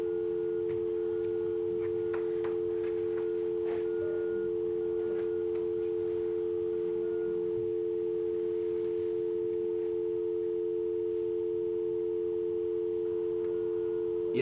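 A telephone left off the hook emits a steady, unbroken electronic tone that holds at constant pitch and level throughout, with faint room noise and occasional small clicks beneath it and no voices.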